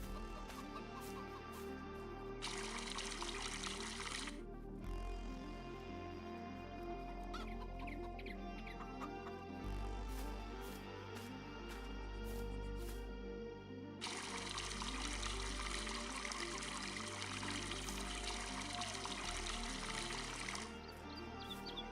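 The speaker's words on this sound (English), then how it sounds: "this is a giant bucket." Water pours steadily from a giant 100-liter bucket in Farming Simulator 22, a continuous splashing rush that runs in two long bursts over a farmyard bed of animal chatter, with no talking.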